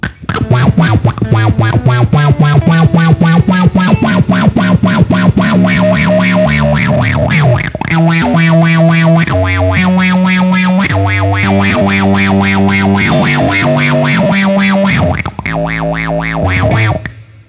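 An electric guitar through a Beetronics Zzombee fuzz pedal chugs through gritty, buzzing chords and riffs, loud and saturated, with no voices.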